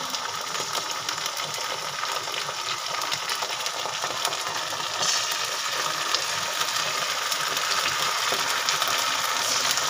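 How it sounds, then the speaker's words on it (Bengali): Ginger frying in a pan gives a steady, close sizzle with dense crackling that runs the full length and swells slightly halfway through; nobody speaks. "এবার আদাটা ভালো করে কষিয়ে নিই।"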